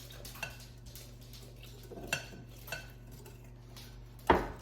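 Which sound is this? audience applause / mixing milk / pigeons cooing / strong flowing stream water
mixing milk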